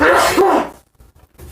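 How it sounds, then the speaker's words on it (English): A single sharp, loud sneeze bursts out, followed by near silence and a few faint rustles. "Blinded by the sneeze."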